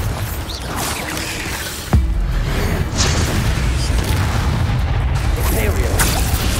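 Bombarda explosion spell in the Hogwarts Legacy video game, a single sharp, loud boom midway through, followed by rumbling game ambience and faint spell whooshes.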